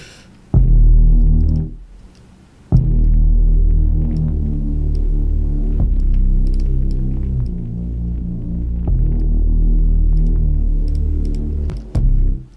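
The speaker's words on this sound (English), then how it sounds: "I feel like this 808 or this bass is way too loud" Heavy, booming bass notes dominate a loud beat, with a brief drop near the start and steady low throbbing that swamps the rest of the mix.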